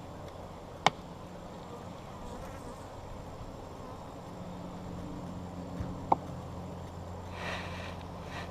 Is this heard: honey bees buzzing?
yes